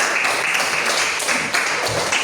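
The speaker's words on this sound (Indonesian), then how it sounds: "Beri tepuk tangan dulu untuk semuanya" A classroom group applauding together, a dense and steady wash of many hands clapping close by, loud and continuous from start to end, with no talk over it.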